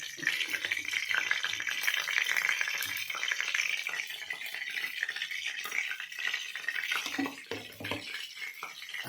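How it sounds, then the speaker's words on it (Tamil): Paneer frying lightly in oil in a pan, a soft continuous sizzle with faint stirring scrapes, fairly quiet and steady throughout. "இந்த எண்ணெயிலே லைட்டாக பன்னீரை வறுத்து எடுத்துக்கலாம்"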